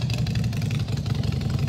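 A small Harley motorcycle engine idles close by with a steady, rumbling throb that holds even throughout.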